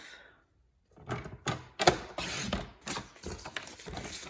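A paper trimmer cutting cardstock for a Stampin' Up Halloween box, a series of close mechanical clicks and sliding rasps with short pauses between them, no talking.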